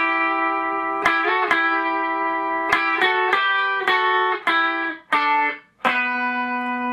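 Heavily distorted electric guitar plays two sustained harmony lines, stepping through a descending run of held notes with short pick attacks, loud and up close with no talking.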